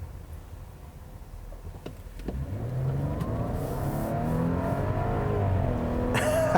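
A 2017 Audi Q7 3.0T SUV accelerates hard from inside the cabin, the engine note rising in pitch from a low rumble and swelling steadily louder as it pulls through the gears.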